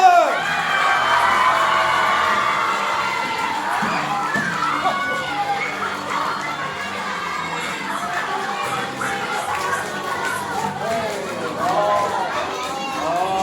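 At a school drama troupe assembly, a young audience cheers and shouts in a loud, continuous swell of overlapping voices.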